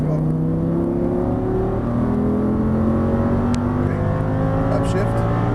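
Audi R8 at full throttle on a Las Vegas race track, engine note climbing steadily and loud with rising harmonics, heard from inside the car with faint wind and road noise.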